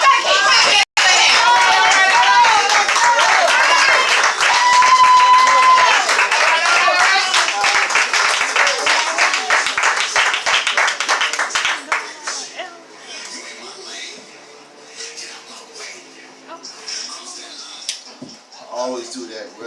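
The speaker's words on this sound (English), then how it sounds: "Y'all better keep clapping for him." An audience at a Hot Sauce Poetry open mic show claps and cheers loudly for a performer, then the noise thins to scattered claps and chatter under a speaking voice.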